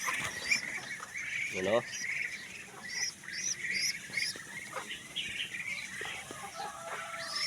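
Chickens with growing chicks cluck and peep in quick, bright chirps, fairly close and steady throughout, with a voice speaking briefly over the birds.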